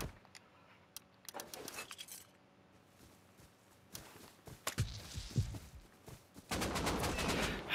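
Scattered bursts of gunfire crack through a video game match, with sharp isolated shots, clustered rapid volleys in the middle, and a denser sustained stretch of firing at the end, fairly quiet overall.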